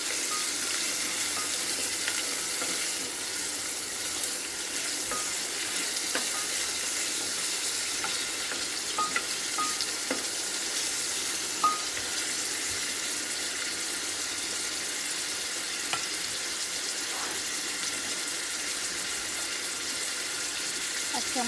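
Goat meat frying and being stirred in hot oil with rendered fat in a pan, a steady close sizzle with scattered scraping and clinking of a utensil throughout.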